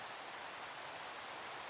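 Steady, even hiss of rain falling in a video game, faint and continuous with no breaks and no voices.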